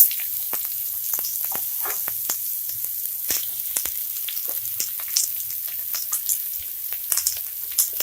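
Chopped onion fries in a teaspoon of ghee in a hot kadai, giving a close, steady sizzle with crackling pops and occasional spattering throughout, no voices.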